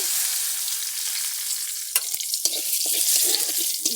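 Bay leaves and dried red chillies dropped into hot oil in a kadai, a bright hiss of frying that starts steady then breaks into sharp pops and spatula clatter, close up with no talk.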